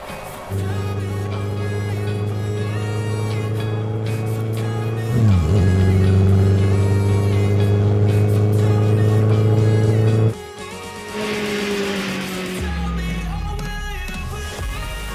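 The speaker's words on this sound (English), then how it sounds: "Honda Cb1300 is kind of the best sound exhaust motorcycle in the world." A 2023 Honda CB1300 Super Four motorcycle idles with a deep, steady exhaust burble. It blips up twice to higher revs, each held for several seconds, with a brief cut and then a lower, rougher settle near the end.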